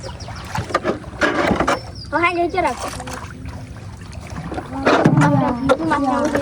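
A rowboat moving through water, with soft splashing and sloshing under several people chatting nearby.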